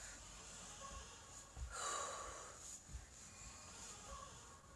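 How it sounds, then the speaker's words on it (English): A deep breath taken during an exercise routine: a soft, close inhale swelling to a breathy peak mid-clip, with quieter snuffly breaths around it. "Now, deep breath."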